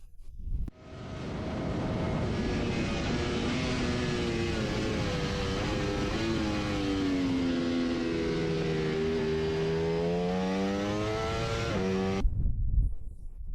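A Ducati Panigale V4R motorcycle with an Akrapovic exhaust roars loudly and continuously for about twelve seconds, its engine pitch climbing and shifting through the gears before cutting off abruptly.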